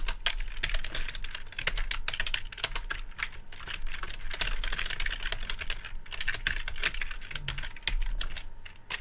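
Steady, close typing on a computer keyboard, a continuous patter of key clicks for the whole stretch with no voice over it.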